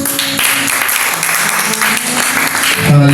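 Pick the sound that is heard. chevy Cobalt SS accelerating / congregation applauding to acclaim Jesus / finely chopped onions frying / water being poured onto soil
congregation applauding to acclaim Jesus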